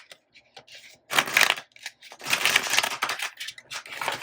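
A newer, stiff tarot card deck being shuffled by hand, giving dense papery riffles and crackling flutters in uneven bursts between short pauses, close and fairly loud.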